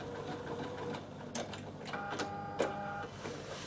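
An overlock sewing machine stitches nylon ribbon, making a faint, rapid mechanical whirr with a few sharper clicks and clunks over a quiet background.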